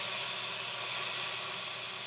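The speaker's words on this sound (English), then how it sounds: "Steam action going on right here to cook the vegetables down." Steam hisses steadily from a pot of vegetables cooking down on the stove, a constant soft airy hiss with no voices over it.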